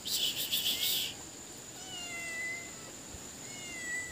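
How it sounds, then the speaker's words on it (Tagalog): A stray cat meows in short repeated cries while crickets chirp steadily in the background outdoors. "Ayan oh, may pusang ligaw oh."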